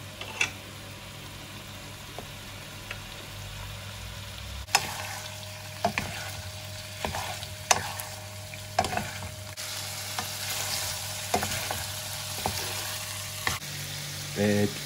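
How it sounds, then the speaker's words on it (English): Sliced pork sizzles and crackles steadily in oil in a frying pan, with occasional clicks and scrapes of stirring, close and continuous. "So we pour some oil in a frying pan"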